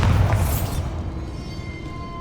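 A Bombarda blasting spell goes off in the video game Hogwarts Legacy, giving one loud, boomy burst at the start that fades quickly into a low, lingering rumble.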